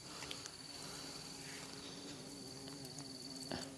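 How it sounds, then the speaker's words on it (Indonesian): Several wasps buzz steadily around the flowers of an orok-orok (Crotalaria) plant outdoors, a continuous faint insect drone close by with no talking. "Oh, ini ada banyak tawon ini."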